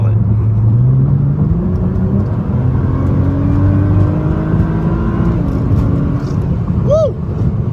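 A 2010 Nissan GT-R with twin turbos accelerates hard at full throttle, its engine note rising steadily in pitch as it builds speed, heard loud and continuous from inside the car, with a brief voice-like sound near the end.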